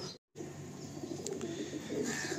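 Andhra pigeons in a loft, low soft cooing over a dull background hum, briefly cut by a short gap of silence near the start.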